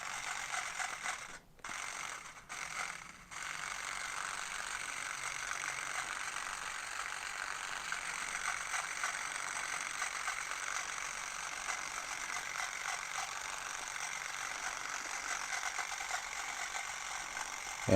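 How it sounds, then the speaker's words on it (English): A Klixer dreadlock machine runs in straight hair, a steady fast mechanical clicking and whirring buzz, close and fairly quiet, broken by a few short pauses near the start. "the lock machine in the hair, moving it up and down, back and forth"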